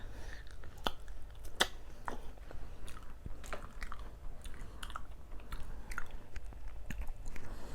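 Grade A Monthong durian being eaten close to the microphone, with soft wet chewing and smacking and occasional sharper bites over a steady low background hum.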